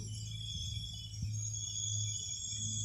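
Crickets chirp at night in the countryside at Wang Nam Khiao, a steady high-pitched insect drone forming a continuous backdrop, fairly faint, with no talking.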